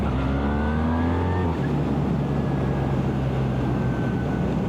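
A 2025 BMW R1300R motorcycle pulls hard in third gear, its loud engine note climbing steeply in pitch, then holding a steady drone after a shift, recorded close and alone.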